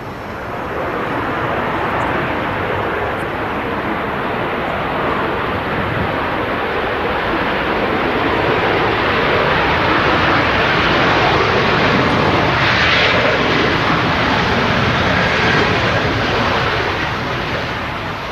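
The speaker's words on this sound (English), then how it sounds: "just making the aircraft slow enough in time for the exit ahead of us" A fixed-wing airliner decelerating on the runway after landing at Manchester Airport, a loud, steady broadband engine roar that holds throughout with slight swells, no voices.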